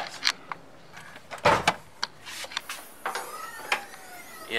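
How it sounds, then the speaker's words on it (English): A loose heat shield on the air intake of an MK5 Jetta rattles against its mount with light, irregular metallic taps and buzzes, close and modest in level, with no speech. "the air intake rattles a little bit because the heat shield hits the amount"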